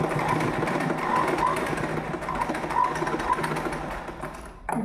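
A sewing machine stitches a uniform skirt with a continuous close whirring run that shifts slightly in speed and cuts off just before the end.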